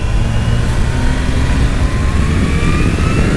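A Kawasaki H2 motorcycle at full throttle with the rider aids switched off except the quickshifter: a loud, close, continuous engine roar whose pitch climbs steadily through the revs.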